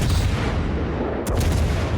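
Ship guns firing in World of Warships, a loud rumbling broadside with a sharp crack partway through over a constant low roar of naval combat.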